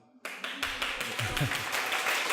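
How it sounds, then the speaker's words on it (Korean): Audience applause at a public lecture by a Seoul National University graduate school of public health professor: a burst of clapping rises suddenly and continues steadily through the clip, with no voices over it. "이렇게 시작도 하기 전에 우리와 같은 박수를 다 받을 수 있고 좋은 것 같습니다"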